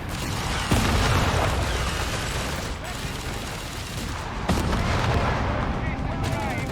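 Machine gun fire in the World War II strategy game Company of Heroes 3, dense crackling bursts of gunfire with booms and artillery mixed into a busy battle din, loud and continuous.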